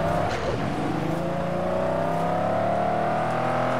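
A Mini revving hard in the racing game Forza Horizon 4: a continuous engine whine climbs steadily in pitch as it accelerates, loud and close, with no talking.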